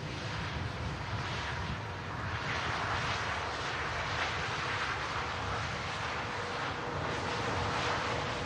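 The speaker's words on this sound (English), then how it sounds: "That was a lovely touchdown from the 350." An Airbus A350 airliner rolling out after touchdown at Manchester, heard from a distance as a steady, broad roar of engine noise that holds for several seconds without talk.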